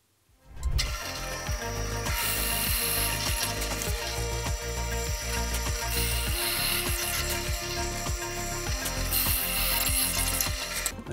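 A drill bores a shallow hole, about 3/8 inch deep, in wood to seat a saw handle, giving a loud, steady mechanical whir with a regular ratcheting click running throughout and no talk.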